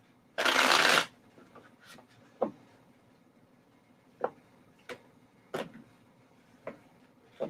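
A deck of cards is riffled for a reading: one loud burst of rapid shuffling up close, then scattered soft taps and card clicks in a quiet room.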